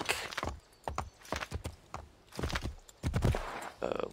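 Horse hooves clip-clop at a steady walking pace in Assassin's Creed III, fairly close, with a few louder thuds toward the end.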